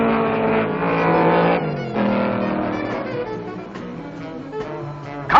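Loud race car engines roar continuously at high revs, with gear shifts and pitch changes as cars, including Cobras and a Cortina, pass close by at Sebring.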